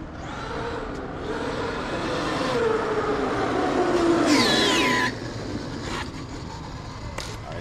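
A Traxxas X-Maxx V5 RC car with a Hobbywing Max 6 G2 system and swapped tires runs under throttle, its electric motor whine sweeping up and down through a sustained, fairly loud rushing drive noise that fades toward the end.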